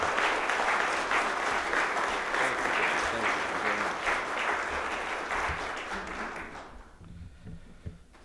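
An audience applauds to welcome speaker Brian Kennedy at a Washington, D.C. event, dense steady clapping that fades out after about seven seconds.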